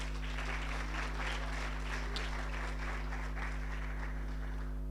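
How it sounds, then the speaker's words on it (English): A crowd claps steadily in a dense patter of applause at a government ministerial roadshow gathering in Hartswater, Northern Cape, moderately loud, over a constant low electrical hum. "Can you give yourselves a big round of applause?"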